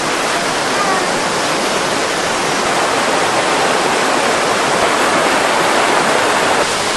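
River water rushes steadily below a medieval fortress in Travnik, Bosnia, a loud, continuous broadband roar close at hand with no pauses.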